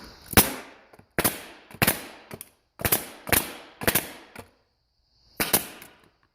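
A pneumatic air tool powered by a Husky 30-gallon compressor fires sharp, close, loud shots in a loose series of about eight, some in quick pairs, with short silent gaps between bursts.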